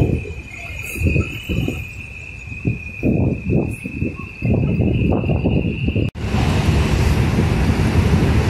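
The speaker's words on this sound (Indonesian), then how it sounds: "Untuk cuaca malam ini anginnya masih kencang banget." Strong night wind gusts at Bakauheni ferry harbour during the 2023 holiday travel rush, heard as repeated rough low buffeting bursts on the microphone over a steady high mechanical hum, with a louder continuous rush near the end.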